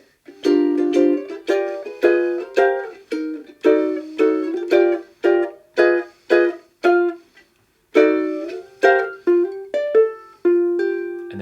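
Two ukuleles play a jazzy chord-melody intro to a 1930 swing standard, plucked chords struck in a steady rhythmic pattern with brief pauses, close and clear with no talking.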